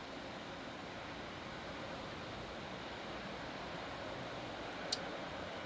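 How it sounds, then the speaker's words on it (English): Steady ocean surf washing in through an open window in San Francisco, California, a constant broadband roar of breaking waves that stays even throughout, with one brief faint click near the end. "I'm glad you guys like the ocean sounds."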